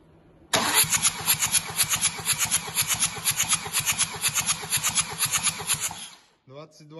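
Kia Sorento 2010 with a 2.2-litre D4HB diesel engine cranking on the starter during a compression test, a loud steady rhythmic chug of about six seconds that stops abruptly, followed by a brief voice.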